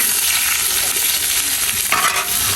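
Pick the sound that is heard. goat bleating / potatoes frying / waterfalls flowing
potatoes frying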